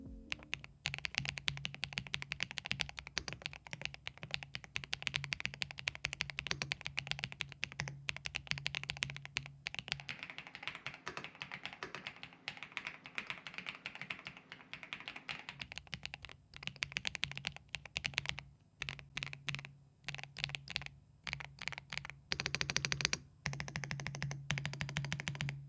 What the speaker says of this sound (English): here's a quick sound test of the Cypher 81 with Wisteria V1 switches